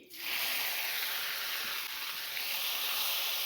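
Roselle fruit dropped into a pan of hot oil with mustard seeds, sizzling in a loud, steady hiss that starts abruptly and holds evenly throughout.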